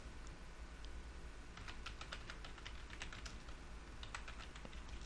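A computer keyboard being typed on to delete lines of code: rapid clusters of light key clicks, faint and close, over a constant background hiss.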